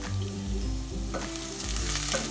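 Onions browned in oil for Punjabi chole sizzle steadily in the pan, with stirring scrapes and low tonal background sounds underneath.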